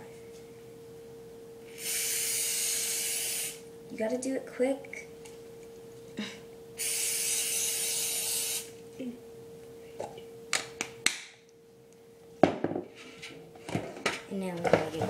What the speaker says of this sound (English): But don't just spray it in one spot.